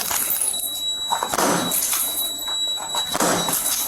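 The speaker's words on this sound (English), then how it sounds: "now he's also going to break the door" Police breaking down a door, with repeated loud thuds and cracking slams against the door, one blow after another, while voices shout nearby.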